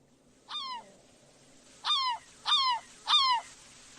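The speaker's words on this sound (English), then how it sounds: "Since when are there birds in Unturned?" Birds in the survival game Unturned give four short, harsh honking calls, one then a quick regular trio, fairly clear over a quiet low background hum.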